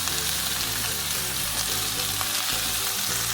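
King prawns fry in a hot pan with Schezwan paste and garlic, giving a loud, constant sizzle and crackle close up, with a little stirring and no voices.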